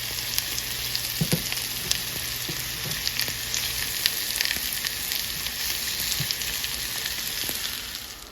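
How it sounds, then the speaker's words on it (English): Food sears in a hot frying pan, giving a constant crackling sizzle with scattered pops and the odd stirring clatter, close and steady throughout. "Get them stirred up so they can get, you know, kind of seared on the other side."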